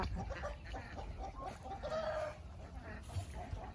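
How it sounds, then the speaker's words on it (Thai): Three newly bought turkeys on a farm, with the male calling, give throaty, wavering calls against a dense, constant background of farmyard noise. "ไก่งวงสามตัวที่เพิ่งซื้อมาใหม่ค่ะ"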